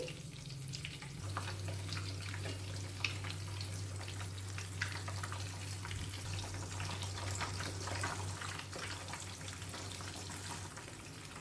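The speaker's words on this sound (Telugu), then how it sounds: "ఇందులో ఇప్పుడు ఎగ్స్ని కొట్టి వేసుకోవాలి" Eggs cracked into hot tempering with curry leaves in a pan for a garlic chili egg dish, a steady broad sizzle running for the whole stretch, close and moderately loud, with no talk over it.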